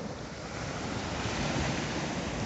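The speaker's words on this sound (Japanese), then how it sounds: "今日はいきなり波音でしっとり始めようかなと思いつつ" Ocean surf rolls onto Waikiki beach after sunset, a steady, full wash of waves and wind with no talk.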